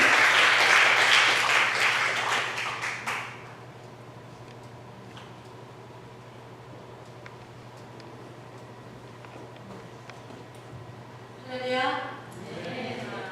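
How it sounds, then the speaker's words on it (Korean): Church congregation gives a warm round of applause welcoming a woman pastor to the pulpit, loud broadband clapping for about three seconds before fading to quiet room tone, followed by a brief voice near the end. "우리 큰 박수로 모시겠습니다."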